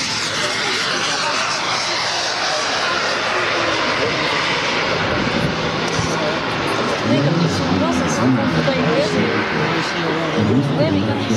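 A radio-controlled model aircraft shaped like a pigeon drones past at a model airplane event, its buzzing engine loud and steady before the pitch shifts as it passes, with people talking over it.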